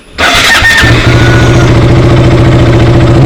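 A KTM Duke motorcycle engine cranks and fires, then settles into a loud, close, steady idle with an even thumping pulse, no one speaking.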